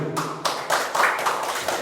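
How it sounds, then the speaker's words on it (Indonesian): Schoolchildren in an elementary classroom clap together in a few sharp, rhythmic bursts, close and fairly loud, with no talking. "Tepuk tangan."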